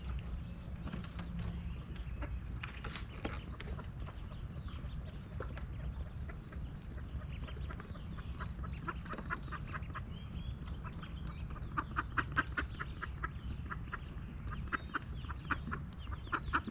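Ducks in a pool quack and cluck in scattered bursts, growing busier and louder toward the end, over a steady outdoor background with no talk.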